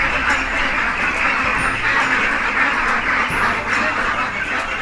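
A crowd of week-old ducks on a duck farm quacks continuously and loudly, the calls overlapping in a dense, close chorus.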